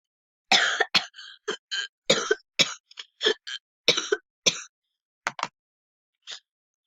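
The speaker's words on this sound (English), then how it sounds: "Sorry for that cough." Repeated coughing fits, a string of sharp, close coughs in clusters with short pauses, then a final single cough after a gap.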